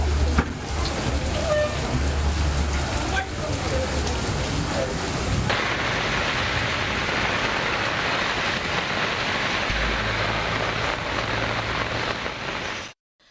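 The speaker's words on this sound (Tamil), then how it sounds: "திருப்பூரில் அரண்மனைப்புத்தூர், காமராஜர் சாலை உள்ளிட்ட பகுதிகளில் மிதமான மழை பெய்தது." Moderate rain falls steadily over Tiruppur streets, a dense continuous hiss of drops with a few low thumps, loud and close throughout before cutting off at the end.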